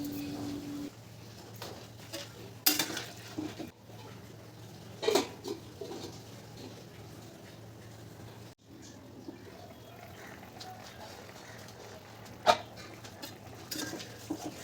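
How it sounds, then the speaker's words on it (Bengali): Mixed vegetables are stirred in a pot, with a spoon giving occasional sharp metallic clanks and scrapes against the pot over a quiet background and scattered soft kitchen noises. "সবজিটা একটু নাড়িয়ে দেব"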